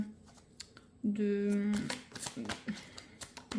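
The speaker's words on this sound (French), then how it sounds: "Je vais tirer une autre carte pour voir un peu." A tarot card is drawn and slid from a deck during a reading, giving short soft papery rubs and flicks, with a brief hum-like tone in the middle and quiet handling noises before and after.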